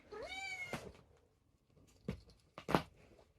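A house cat gives one clear, rising meow close by, followed by a few soft knocks and taps in an otherwise quiet room.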